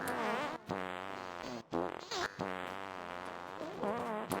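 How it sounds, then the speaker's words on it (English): Factorio SeaBlock puffers give off a steady stream of long, sputtering, flatulent blasts that overlap and repeat. The blasts are broken by brief pauses and carry on alone with no speech. "the puffers just farting away over there"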